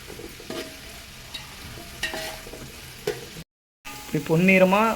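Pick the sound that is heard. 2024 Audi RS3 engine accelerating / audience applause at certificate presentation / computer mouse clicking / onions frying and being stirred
onions frying and being stirred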